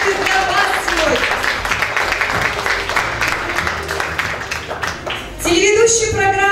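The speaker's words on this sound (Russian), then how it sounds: "наши аплодисменты для вас сегодня" Applause from the audience at a beauty contest run by the Panther Models agency fills the room as a presenter keeps talking over it, the clapping steady beneath the voice until music swells near the end.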